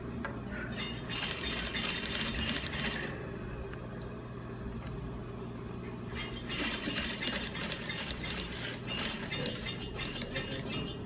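Sewing machine stitching a mandarin collar onto a full bodice in an apparel studio, a steady mechanical whir broken by a short pause midway, then resuming with light clicks and clatter, fairly close.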